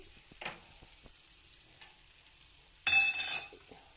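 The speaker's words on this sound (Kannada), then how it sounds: "ಈ ಬಾಣಲೆ ಪಲ್ಯದ ಫ್ರೈ ಮಾಡ್ತಾ ಇದ್ದೀನಿ" Quiet kitchen sounds with a few soft clinks, then a loud burst of sizzling as vegetables hit a hot pan, lasting about a second.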